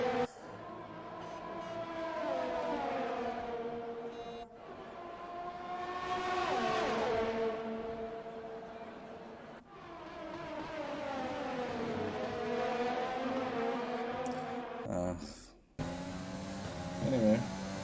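Race car engines in F1 2020 whine and rev as several cars battle closely at Interlagos, pitch climbing and falling through gear shifts, with a voice talking over the engine noise.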